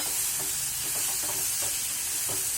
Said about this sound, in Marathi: ही मुगाची डाळ आता आपण भाजीमध्ये घालूया